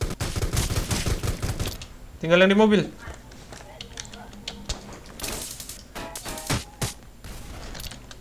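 Gunfire in the video game Rules of Survival aimed at a car: a burst of rapid shots opens, followed by scattered sharper reports and game effects while a player talks over the action.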